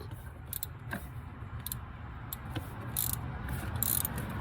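A ratchet wrench clicks in short bursts while loosening the radiator fan nuts on an R50 Pathfinder QX4, quiet and close over a low background hum.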